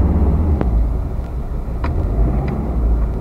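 Inside a 1979 Mercedes 300SD, the turbo diesel engine runs as a loud, steady low rumble, rising slightly in brief revs, with a few faint clicks and taps over the drone.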